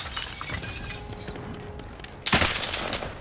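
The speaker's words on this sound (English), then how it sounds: "Oh, I'm getting shot at." In a video game, a loud burst of gunfire erupts near the end with sharp, crackling impacts. Quieter scattered shots and background noise come before it.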